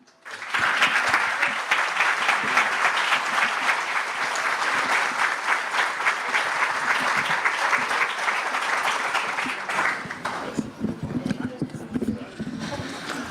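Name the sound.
audience applause at a talk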